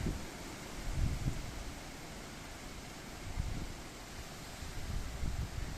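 Wind rushes steadily in broad gusts before a storm in Canada, swelling and easing with a rustling hiss, with no other sounds standing out.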